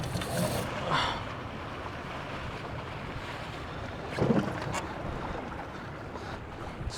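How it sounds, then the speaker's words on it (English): Strong, gusty wind buffets a sailboat at sea, producing continuous rumbling wind noise with flapping sail bursts and water rushing along the hull, close and loud. "Just to give you an idea how strong the wind is"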